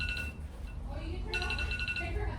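A phone rings in a home kitchen during key lime pie baking, a bright repeating electronic tone pattern breaking in briefly over cooking noise and background sound.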